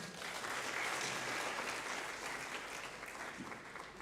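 An audience at an economics seminar applauds to welcome the session moderator, a dense, steady wash of many hands clapping that holds throughout.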